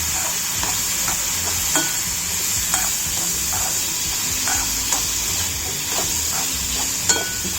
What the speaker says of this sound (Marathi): आता ह्याच्यात आपली भाजी, केळफुलाची वाफवलेली भाजी छान परतून